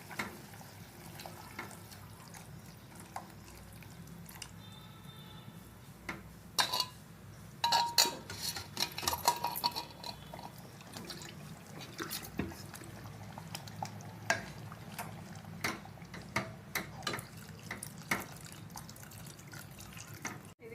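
Gram-flour batter for pindi charu is stirred and poured in a kitchen, with wet sloshing, spoon clinks against a bowl and dribbling liquid, fairly quiet and irregular throughout.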